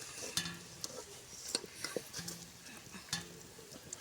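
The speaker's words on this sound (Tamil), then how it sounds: "நம்ம எண்ணெயில் போட்டு இது மாதிரி நல்லா செவக்க விட்டு தான் நம்ம எடுக்கணும்" Sugiyam sweets deep-fry in hot oil with a soft, steady sizzle, broken by repeated light clinks and scrapes of a utensil moving through the pan, all close and fairly quiet.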